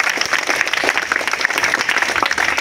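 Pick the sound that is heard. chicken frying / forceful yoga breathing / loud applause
loud applause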